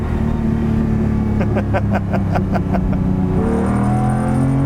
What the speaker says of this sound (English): Oh, listen to that engine. Oh man. Oh, and it pops and burbles.